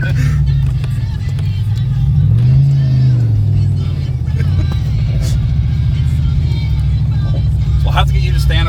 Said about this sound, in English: Now we're racing and drifting you.